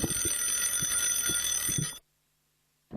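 Loud electric starting bell ringing continuously for about two seconds at a greyhound race at Clonmel, a bright sustained clang that cuts off abruptly into silence.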